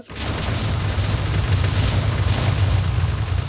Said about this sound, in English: Chain Explosion's pretty cool